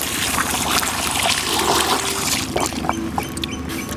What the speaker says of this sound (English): They're bloody rocket taps, and watch this water pressure.